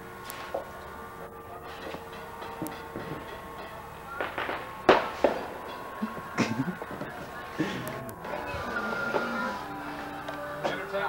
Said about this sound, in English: Fireworks. Fireworks.